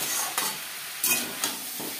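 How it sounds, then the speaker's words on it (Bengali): Spinach stirred with pumpkin and eggplant in a pan for a vegetarian spinach ghonto: a constant hissing sizzle, broken by several spatula scrapes and stirring strokes at irregular intervals. "কুমড়ো বেগুনের সাথে শাক বেশ ভালো করে মিক্স করে দেবো।"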